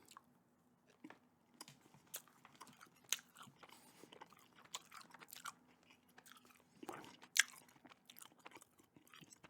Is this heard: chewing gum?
yes